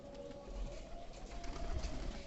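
Low, continuous cooing rises from a loft holding some fifty or sixty pigeons, a dense murmur of many birds close by with no voices over it.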